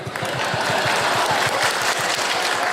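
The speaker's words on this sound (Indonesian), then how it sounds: "Coba yang jomblo tepuk tangan." A crowd at a Bandung community biopore appreciation event claws out loud, fast, rhythmic clapping in a steady beat, with a dense wash of hands throughout and no talk over it.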